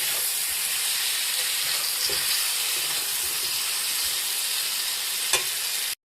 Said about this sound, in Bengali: সামান্য হলুদ, পরিমাণ মতো নুন দিয়ে এগুলোকে ভাজতে থাকবো।